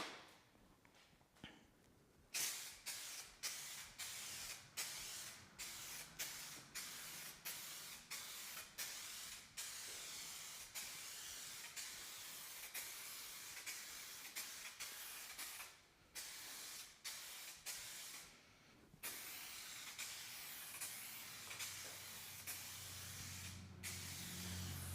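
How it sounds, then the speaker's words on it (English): Adhesion promoter is sprayed onto a 2022 WRX from an aerosol can in a quick series of short hissing bursts, close and crisp, with brief pauses between passes and a few longer sprays. "Here we go with the adhesion promoter."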